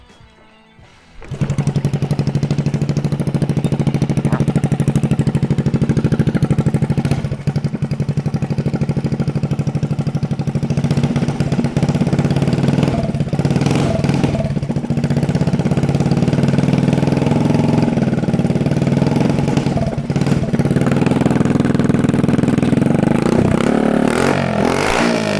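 A 1974 Honda XL70 motorcycle with its exhaust pulled fires up on choke after a moment of quiet, then idles loudly and steadily with a raw, uneven putter and occasional small blips.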